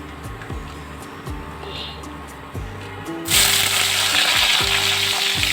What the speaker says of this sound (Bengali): এবার আমি ওই কড়াইয়ের মধ্যেই আমি প্রথমে বেগুনগুলো ভেজে নেব।